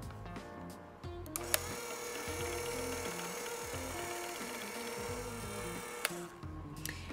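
An electric mixer on low speed blends popover batter of flour and liquid, a steady motorized whir that changes pitch slightly as it runs continuously, with no talking.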